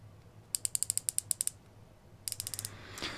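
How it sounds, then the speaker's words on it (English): A watch bezel with a red aluminum insert on a Spinnaker Spence automatic diver's watch turns in a quick run of crisp, evenly spaced ratcheting clicks, then a shorter second run, close and quiet. "Bezel action is very pleasant to use, nice defined clicks."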